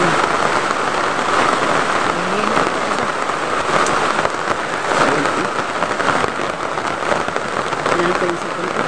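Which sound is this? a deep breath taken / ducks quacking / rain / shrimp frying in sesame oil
rain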